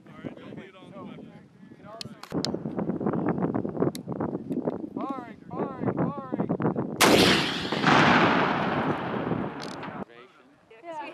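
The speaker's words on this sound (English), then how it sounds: "today we're utilizing the Carl Gustav for the MAAWS system" A Carl Gustav M3E1 recoilless rifle fires once on a Marine range, a single loud blast with a long rushing roar that trails off, after people talking outdoors and a brief windy pause.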